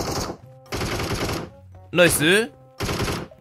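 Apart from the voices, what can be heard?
gunfire in a video game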